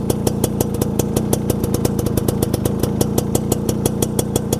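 A motorcycle engine with its original stock exhaust idles steadily, putting out a fast, even stream of close, loud pulses with no other sounds.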